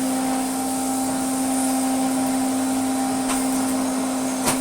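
A Moulinex E59 vacuum cleaner runs on a rug with a steady, loud motor whine and constant airflow hiss, unbroken throughout with no talk.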